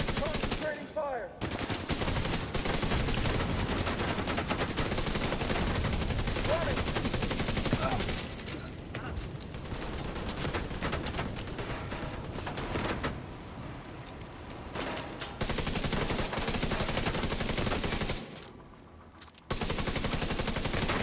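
Sustained automatic weapon fire in a video game battle rattles on almost continuously, loud and dense, with brief pauses and a voice talking faintly underneath.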